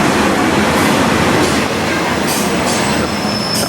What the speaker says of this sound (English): The driver's finally got the train in the station.